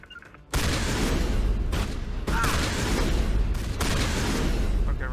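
Shotgun blasts in the video game Mass Effect, a series of loud, booming shots in quick succession forming a dense barrage, after a brief quiet opening.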